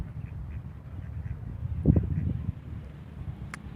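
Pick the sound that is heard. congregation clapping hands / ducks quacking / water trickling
ducks quacking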